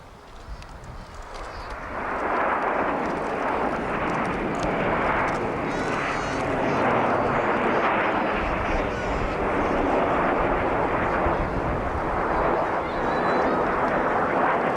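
Aerobatic display jets performing a Delta roll at an RAF Scampton airshow in 1989, a loud sustained broadband engine roar that swells after a quieter start and holds steady, with a commentator speaking over it.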